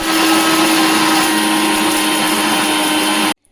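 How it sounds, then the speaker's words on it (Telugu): Mixer grinder whirring loudly and steadily as it powders fried ingredients, close up, then cutting off abruptly at the end. "ఇప్పుడు ఫ్రై అయిపోయిన తర్వాత ఇంకా మిక్సీ జార్లో వేసి వీటిని అయితే పౌడర్ చేసుకుందాం"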